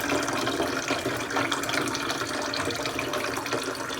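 Water runs steadily from a tap at a home, filling a container as it is drawn and poured in a continuous, even splashing rush with no talk over it.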